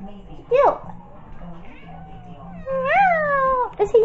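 A cat lets out a short meow, then a longer drawn-out meow a few seconds later, close by, with faint background noise and a voice between.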